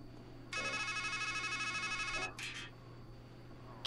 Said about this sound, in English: It's a payphone.